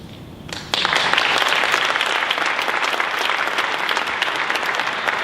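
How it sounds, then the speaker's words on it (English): A forum audience at a congressional district event bursts into applause after a brief quieter moment, a loud, dense wash of many hands clapping that holds strongly and then slowly thins toward the end. "please hold applause until the end"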